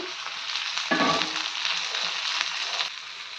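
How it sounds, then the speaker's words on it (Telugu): Coriander and tamarind fry in a pan with a steady close sizzle, briefly flaring louder as they hit the oil and then hissing evenly throughout; no speech. "ఇందులోనే కొత్తిమీర కూడా వేసి చింతపండు కూడా వేసి కొంచెం వేగనిద్దామండి"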